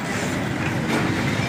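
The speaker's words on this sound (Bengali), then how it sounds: "ট্রেন যাইতেছে।" A train rolls past near Sreepur railway station in Gazipur, a steady, loud rumbling roar that holds throughout at close range, with no talking.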